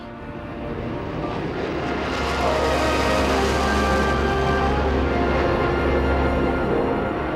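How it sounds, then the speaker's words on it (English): A Concorde supersonic airliner roars down the runway on its takeoff run, a dense, steady rumble of jet engines that builds in loudness and stays heavy and continuous throughout. "The acceleration on the runway is quite something to remember"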